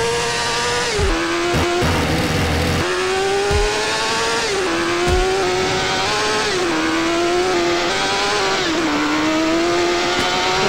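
Motorcycle engine in GTA San Andreas, loud and continuous, with the pitch rising through gear shifts and falling back several times over steady acceleration, heard alone without talk.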